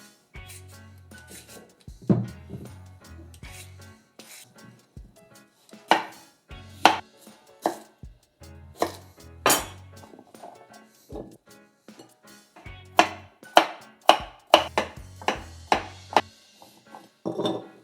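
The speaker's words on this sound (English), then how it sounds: "So now we have to cut this and this, zucchini and the red peppers." A knife chops zucchini and red peppers on a cutting board in a home kitchen, with close, sharp strokes in irregular runs, some quick bursts and some single cuts, and short pauses between them.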